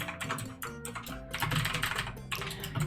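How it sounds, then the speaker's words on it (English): Rapid, close clatter of keys on a clicky mechanical keyboard, with dense bursts of sharp clicks and short gaps between runs, heard alone without speech. "testing the water just to see how loud my clicky-clacky keyboard sounds"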